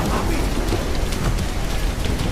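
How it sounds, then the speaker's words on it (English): Heavy rain effect in the video game Acts of Blood, a loud, dense, continuous downpour hiss with scattered patter and low rumble, no voices. "heavy rain effect quite well"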